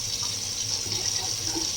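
Tap water poured or running steadily into a container to cook rice, a continuous close hiss and splash with no pauses.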